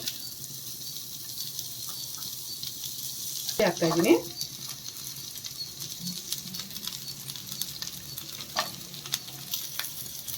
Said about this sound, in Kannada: ಪ್ಯಾನ್ಗೆ ಒಂದೆರಡು ಸ್ಪೂನು ಎಣ್ಣೆ ಇದ್ದೀನಿ ಒಂದು ಬಟ್ಲು ಈರುಳ್ಳಿ ಹಚ್ಕೊಂಡಿರೋದನ್ನ ಹಾಕ್ತಾ ಇದ್ದೀನಿ